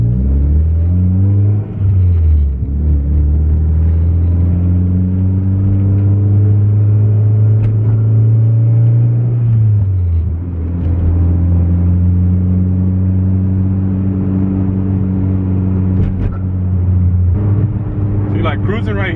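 A car fitted with a racing exhaust rumbles steadily while cruising at around 3,000 RPM, a deep continuous drone with brief dips in engine pitch, loud and close from inside the cabin while someone talks over it.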